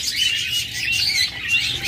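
Pet birds at a bird market, including lovebirds, budgerigars and cockatiels, chirp and tweet in a dense, continuous high chatter, steady and fairly loud with no voices.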